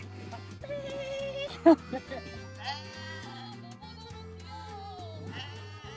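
Sheep or goats bleat repeatedly at an outdoor farm path beside a bench, with a sharp nearby bleat standing out. People talk over the calls, which sit beneath a steady low hum.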